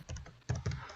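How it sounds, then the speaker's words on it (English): Typing on a computer keyboard during an interview with an artist, heard as two or three quick bursts of close, clattering keystrokes with short pauses between them. "I'm typing in right now"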